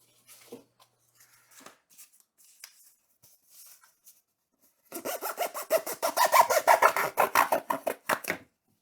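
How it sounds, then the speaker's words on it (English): A Canary box cutter knife slices cardboard up close. Faint scattered scrapes come first, then a dense rapid run of loud rasping strokes for about three seconds. "Let's see how the new knife does on the cardboard test here."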